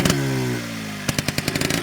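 A 1980 Yamaha Towny scooter's small engine hums steadily, then a rapid series of sharp mechanical pops and clatters follows in quick rhythm as it revs, close by.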